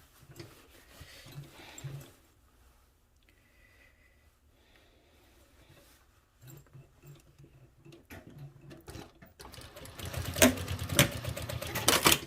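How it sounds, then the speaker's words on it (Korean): A sewing machine stitches cargo jogger pants in short bursts, quiet at first and then running in a louder, faster rattling stretch near the end. "밑에 박아서 뒤로 올려서 다시 눌러서 이렇게 해서 여기 박아줄 겁니다"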